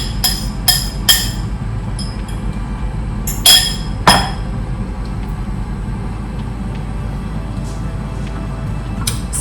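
Dishes and glassware clink in a kitchen while breakfast eggs are being cooked, a few sharp clinks early on, then a steady hum of a running fan underneath.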